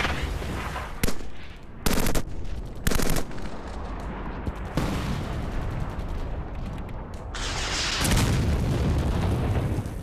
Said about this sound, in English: They're firing mortars and rockets from every direction and in great profusion.